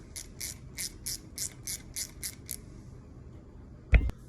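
A hand ratchet tightening bolts on an Evinrude/Johnson outboard lower unit during a rebuild gives a run of about nine quick, evenly spaced clicks, then a pause and one sharp metallic knock, close and fairly quiet.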